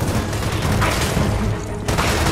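Dense bursts of rapid gunfire and booms fill a battle in Gears of War 4, loud and continuous over a short span with a brief dip near the end.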